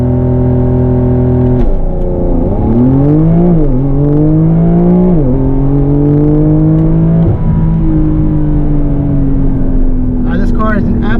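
Porsche 992 911 Carrera 4S with PDK doing a launch-control start: a steady held rev, then the engine pulls hard through several rapid upshifts, each rising tone dropping back, loud and close from inside the cabin.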